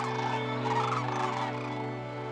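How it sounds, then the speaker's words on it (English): Sandhill cranes and snow geese calling together at a California Central Valley wetland, a dense, continuous chorus of honking and rattling bird calls, loud and steady throughout. "Sandhill cranes and snow geese overwinter here before beginning their long journey north"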